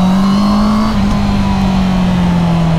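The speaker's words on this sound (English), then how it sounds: "Sounds so sick through the tunnels, even though it doesn't have a cool exhaust on it." A stock Honda CB650R motorcycle engine echoes while riding through tunnels, a loud steady drone at a near-constant pitch that dips slightly and eases over a few seconds, close to the microphone.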